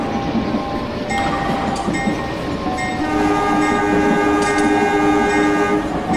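Horn of a KA Lokal 405 local passenger train near Surabaya, Indonesia, sounding in long sustained tones over steady rumbling wheel and rail noise, loud and close, with no talking.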